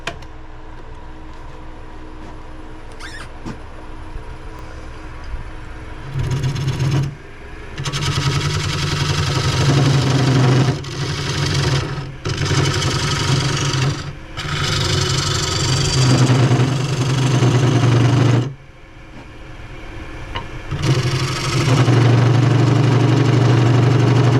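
A wood lathe motor hums steadily as a gouge cuts into a heavy chestnut oak blank, the drive bogging and slowing under load in long loud stretches separated by brief lighter pauses.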